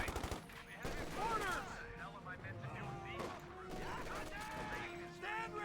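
Rifle and machine gun fire in Company of Heroes 2, a dense run of overlapping shots and bursts under a steady commentator's voice.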